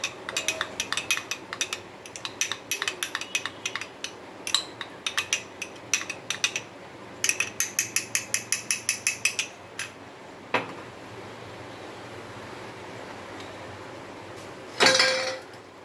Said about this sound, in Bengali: এবার এটা ভালো করে মিক্স করে নেবেন। আমি একটা ডিম দিয়ে বানাচ্ছি,